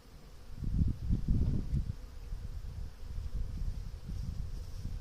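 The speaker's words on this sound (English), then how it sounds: "This hive has about 4 frames of bees" A low, steady buzz of many honeybees at a hive of about four frames swells and fades around the listener, dense and close, with no talking.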